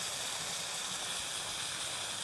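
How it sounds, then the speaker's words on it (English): A steady, broad hiss from an underground bomb runs unbroken for a couple of seconds, like something sizzling hot, even in loudness with no voices. "If you're listening, you can probably hear it sizzling."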